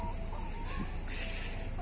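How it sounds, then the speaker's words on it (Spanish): A rooster and hens cluck close by in a farmyard amid a busy, noisy background. "El gallo Federico."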